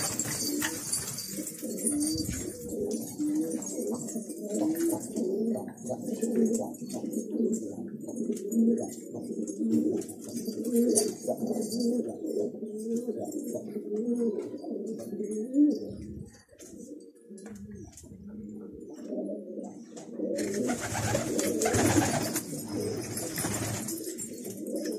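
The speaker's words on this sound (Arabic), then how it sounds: "هاي هاي حمامي طبعا يا اخوان" Pigeons coo in repeated low, throaty rolling calls, close and fairly loud, with a few chirps and brief wing flutters, and someone speaks intermittently over the birds.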